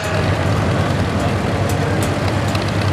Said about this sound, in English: This is a 6-cylinder engine in this.